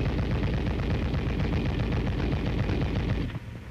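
An M73 tank machine gun fires one long, continuous fully automatic burst, loud and dense, then cuts off abruptly near the end, leaving a quieter tail.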